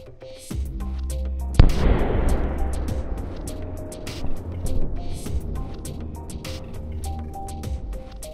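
Golden Rain fireworks by the Italian firm Catapana: a single powerful explosion bursts loudly after a lower opening boom, then its rumble and crackle slowly decay amid scattered distant pops.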